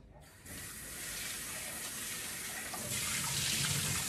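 Water runs steadily from a kitchen tap while food is rinsed off, a broadband hiss that starts abruptly and grows a little stronger near the end, with no talking.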